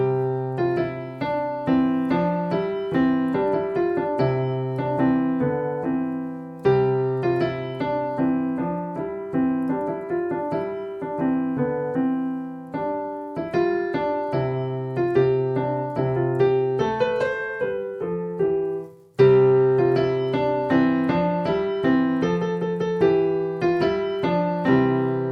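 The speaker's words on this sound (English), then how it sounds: "All together, without any pauses, here's how the song sounds" A piano plays the traditional Christmas carol Deck the Halls all the way through without pauses, a clear, close, steady melody over simple left-hand chords, with no voices.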